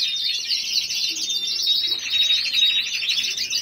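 Several caged songbirds sing at once, a dense, steady tangle of bright chirps and trills close by with no talking.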